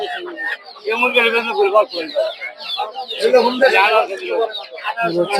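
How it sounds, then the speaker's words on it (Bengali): Chickens cluck and chicks cheep close by at a rural poultry market in Narsingdi, Bangladesh, mixed with a busy murmur of voices talking throughout. "এগুলো হচ্ছে দেশি মুরগি বাচ্চা"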